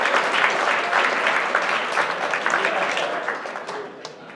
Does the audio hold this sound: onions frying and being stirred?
no